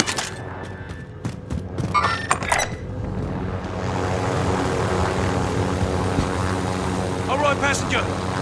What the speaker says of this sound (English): Come on, man, jump in the chopper.